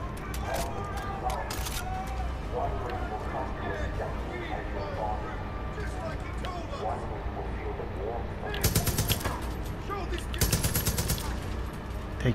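Rapid bursts of automatic gunfire in Far Cry 5 crackle out in two loud volleys near the end, after a stretch of quieter shooting and game noise, with someone talking over the action.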